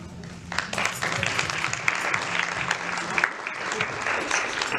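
Audience applause for Auntie Janet at a royal-themed family celebration: dense, steady clapping from a crowd that fills the whole stretch at even loudness, with a low hum beneath it for the first few seconds.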